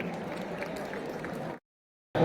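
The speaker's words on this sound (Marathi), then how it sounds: "एकदा जोरदार टाळ्या होऊन जाऊ देत अक्षय निकतेंसाठी." An audience claps loudly and steadily at a school alumni reunion, a dense wash of applause that cuts off abruptly after about a second and a half, followed by a brief silence and then a loud burst.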